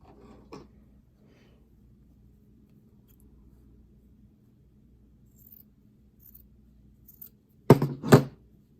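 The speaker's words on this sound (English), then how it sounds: "So I'm just gonna cut this off." Scissors snip away a messed up sewing stitch on a fabric scrunchie, a faint early click followed by quiet near-silence, then two sharp, close cutting snaps near the end.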